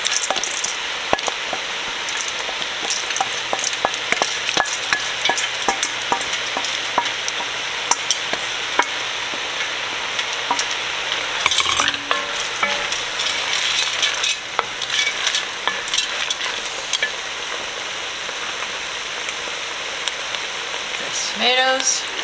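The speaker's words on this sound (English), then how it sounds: "I'm going to add in the beans." Beans go into a pot of browned meat for sixteen-bean soup, bringing a dense crackling sizzle with frequent clicks and scrapes of stirring, close and loud, with a brief louder clatter near the middle.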